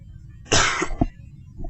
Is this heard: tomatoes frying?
no